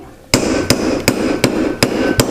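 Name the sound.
hammer striking metal to shape beads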